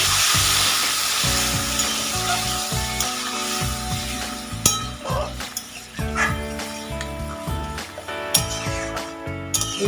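Vegetables for a Bengali vegetarian rasa curry sizzle and spit in hot oil in a pan as water is added, with steady crackling, scattered sharp pops and stirring clatter, and brief voices in the background.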